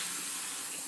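A bathroom sink tap runs, water pouring steadily into a basin holding hair dye, a close, constant rush with no speech.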